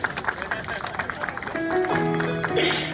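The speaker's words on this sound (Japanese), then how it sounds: "ジュニアにもう一度大きな拍手送ってあげてください" An audience at an outdoor monkey performance in Odaiba claps after a trained monkey's act. Scattered applause runs under crowd babble, and steady tones and voices come in during the second half.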